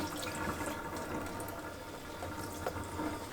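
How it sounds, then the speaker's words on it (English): Water and soaked feed-store grain pour through a strainer for a fodder system, a soft, steady trickling wash with a few small splashes and drips, fairly quiet throughout. "first we're going to put it through a strainer"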